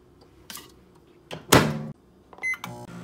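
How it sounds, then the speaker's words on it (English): Microwave oven heating bits of cheese on communion wafers: a door clunk and button beeps, then a brief burst of whirring hum, with a few short clicks and a tone near the end. "I'm just gonna place these on top and hope for the best in the microwave"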